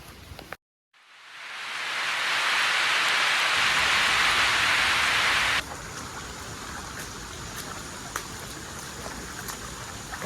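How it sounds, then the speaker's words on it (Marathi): Heavy rain pours down at night in a loud, steady hiss after a brief silent start, then eases to a lighter, continuous patter. "आता पाऊस आलाय जोरात"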